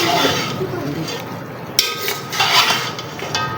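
A round spoon stirs mutton pulao masala in a cooking pot, with scraping, clinking metal contacts and a steady sizzle underneath, close and continuous for a few seconds.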